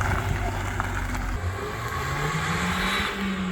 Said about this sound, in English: driving a Fiesta ST